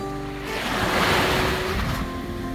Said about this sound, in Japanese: 海沿いを歩いてて手頃な石を発見したら、ついつい水切りをやりたくなりますよね。